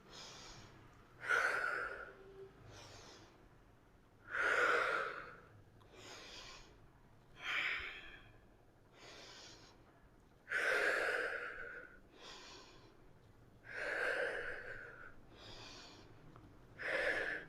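Slow yoga breathing during a guided stretching session, with about a dozen soft, airy inhales and exhales in a steady rhythm, each breath drawn out and close, heard alone without talk.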